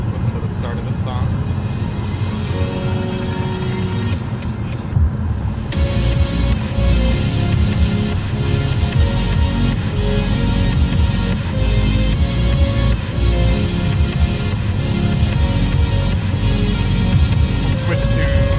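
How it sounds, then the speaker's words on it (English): A song plays through the Bowers & Wilkins sound system in a 2020 McLaren 570S, full and steady with strong bass, heard from inside the cabin. "Let's listen to the start of this song."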